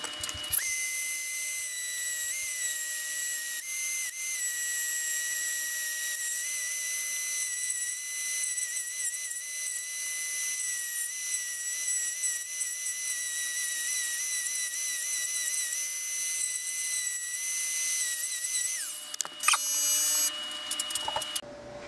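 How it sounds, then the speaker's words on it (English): A Dremel rotary tool grinds steadily against a thin-walled RC crawler axle case to cut off the steering link slider, a loud continuous high whine running about nineteen seconds before spinning down. "The easiest way is while with the axle apart, you just Dremel right against the case, right in there."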